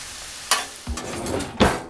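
Shrimp scampi sizzling on a hot Blackstone griddle as a spatula stirs and scrapes it, with a few sharp scraping strokes over a steady close frying hiss.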